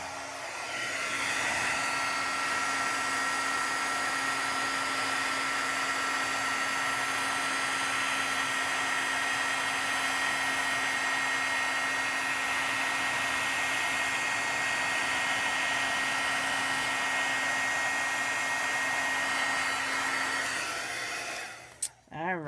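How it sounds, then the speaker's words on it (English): A heat embossing gun melts embossing powder on a firework cityscape card, blowing a steady, loud hot-air roar that runs unbroken for about twenty seconds before clicking off. "You guys want to see the heat embossing?"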